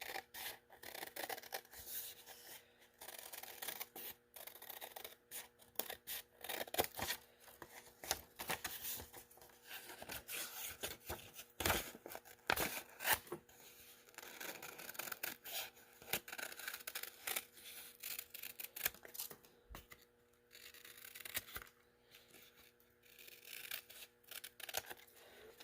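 Scissors snip through paper while cutting out two matching elephant ears for an art lesson, producing soft, quiet, irregular cutting and rubbing sounds at close range with no talking.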